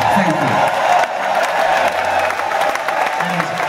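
A concert audience at Shepherds Bush Empire applauds during a live show, a steady wash of clapping with some crowd noise and faint whoops, moderately loud and continuous throughout.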